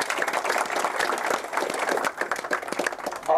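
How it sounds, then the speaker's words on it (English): A room full of people applauds at a ribbon cutting, a dense, steady clatter of hands that keeps going without pause. "I just want to give them a quick round of applause."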